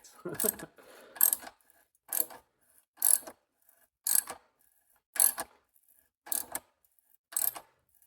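A tap cuts new spark plug threads into the stripped head of a snowblower engine during a Helicoil repair, giving eight evenly spaced bursts of metallic ratcheting and scraping, close and fairly quiet, with silence between turns.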